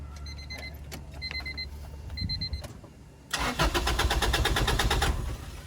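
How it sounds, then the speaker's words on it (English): A rhythmic chiming alarm beeps a few times before a car engine with a newly installed exhaust cranks and catches, settling into a loud, raspy idle up close. "That was the first startup with the exhaust."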